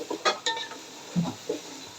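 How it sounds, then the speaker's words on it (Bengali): Meat and salt being stirred gently in a cooking pot, giving a few soft scraping and clinking touches of a spoon against the pot, spaced irregularly over about two seconds with no talk. "হালকা হাতে নাড়াচাড়া করব।"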